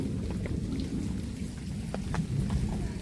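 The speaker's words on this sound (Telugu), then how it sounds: "వర్షం పైన వర్షం చేసుకుంటూ పోతా ఉంది" Heavy monsoon rain pouring onto a thatched hut, with a dense, steady roar and rumbling thunder underneath; scattered drops patter nearby.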